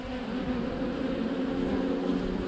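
A swarm of honeybees being gathered up with their queen during hive work, a dense, steady buzzing hum that fills the whole stretch, close and unbroken, with no voices.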